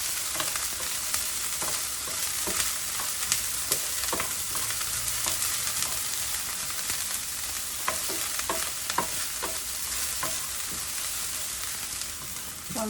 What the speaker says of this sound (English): I'm gonna fry the green onions